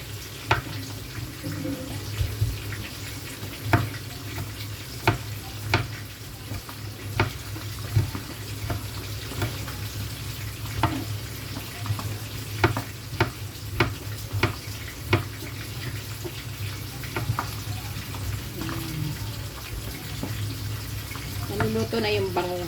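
Milkfish (bangus) sizzles steadily in a pan with occasional sharp pops and crackles, while faint kitchen clatter sounds in the background.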